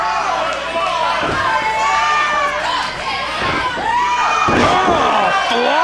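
A crowd cheers and shouts loudly throughout a wrestling match as a T-bone suplex lands, with thuds of the slam audible under the dense roar and excited voices.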